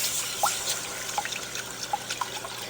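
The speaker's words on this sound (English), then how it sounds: "Now I'm going to go in with some milk slowly" Milk is added slowly to a roux for cheese sauce, producing faint, scattered drips and small liquid splashes against a quiet background.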